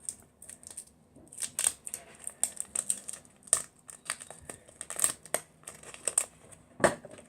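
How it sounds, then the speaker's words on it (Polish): A Turbo chewing gum wrapper being unwrapped up close, a quiet run of irregular crinkles and sharp paper crackles with a louder snap near the end. "I następną gumę otwieramy"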